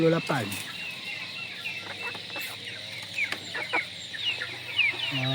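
Several Shamo and Indio Gigante chickens cluck softly and intermittently, close by, with brief bursts of a voice at the start and end.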